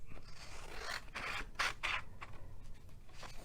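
Scissors snipping through cardstock while making a Stampin' Up Easter treat box, heard as a few close, quiet crisp cuts and rustles in an otherwise quiet room.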